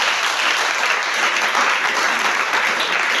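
A church congregation applauds the Lord in steady, dense clapping that fills the room from start to finish, loud and sustained with no voices standing out.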